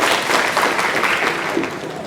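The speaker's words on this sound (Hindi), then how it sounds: "तालियों के साथ अभिनंदन सर।" An audience at an Independence Day celebration in a Central Bank of India zonal office claps in a steady, even wash of applause. The applause fades slightly toward the end, and no one speaks over it.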